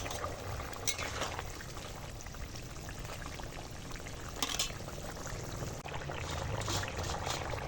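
Fish curry gravy with fried catla fish and cauliflower boils in a pan, a soft continuous bubbling and sizzle with a few brief louder pops, heard close and fairly quiet with no voices.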